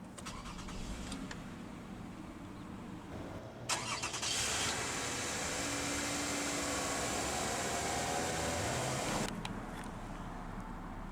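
A 2009 Toyota Camry SE V6 cranks briefly and fires up, settling into a steady, fairly loud idle that holds for several seconds before the engine is cut off.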